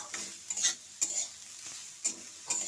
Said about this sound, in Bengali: দিয়ে একটু নাড়াচাড়া করব